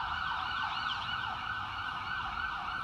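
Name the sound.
emergency vehicle siren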